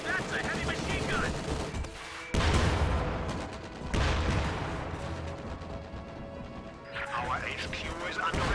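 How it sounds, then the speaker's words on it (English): Heavy machine gun bursts crackle from a World War II tank battle video game featuring Sherman tanks, loud rattling volleys starting and stopping over a dense din of gunfire and explosions, with a voice talking underneath. "That's a heavy machine gun."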